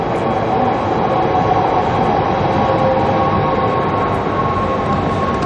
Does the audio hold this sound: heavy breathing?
no